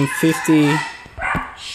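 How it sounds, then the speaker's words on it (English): A dog barks several times in quick succession, fairly close and loud, followed by a few short rustles and knocks indoors, with someone speaking over it. "That was my dog was barking."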